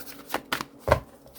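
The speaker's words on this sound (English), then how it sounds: "I think this is the final shuffle." A deck of cards is shuffled by hand up close, with a few quick riffling bursts and soft slaps during a tarot reading, and no talking.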